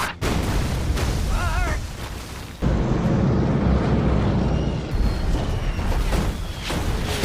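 Bombs from an allied attack strike a camp, with heavy booming explosions and rumbling blasts, including a sharp break midway, in a dense and continuous barrage.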